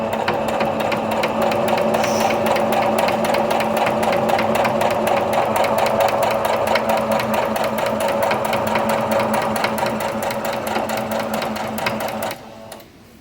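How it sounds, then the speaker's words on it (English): Sewing machine stitching a reversible quilted table runner, a steady, loud, rapid mechanical chatter running for about twelve seconds before slowing and stopping, with no talking over it. "then I'm just gonna lift it up, turn it back, and go back"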